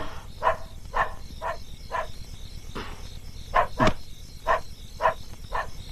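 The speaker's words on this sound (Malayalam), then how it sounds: "ആ കൈസർ എടുത്ത് കുരയ്ക്കുന്നുണ്ട്." A dog named Kaiser barks in a steady series of about ten sharp barks at a moderate distance, over a constant background of insect buzz, with no talk.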